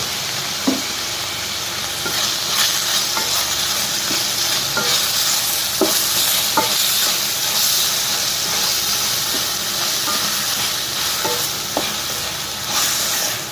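Amaranth leaves frying in a pan with oil and salt, a loud steady hiss and sizzle broken by periodic scrapes and taps of a spatula, close up and without speech.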